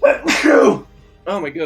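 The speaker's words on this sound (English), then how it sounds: "Oh my god, that was a sneeze" A single loud, close sneeze bursts out, followed after a short pause by a person speaking.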